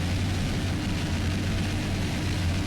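A helicopter filming a 2002 Key West offshore powerboat race gives a steady, loud, droning rotor and engine roar with a strong low hum that holds unbroken throughout.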